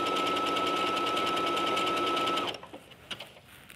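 A sewing machine stitching a seam in knit fabric, running as a loud, even whirring buzz for about two and a half seconds, then stopping to leave quiet clicks and handling noise.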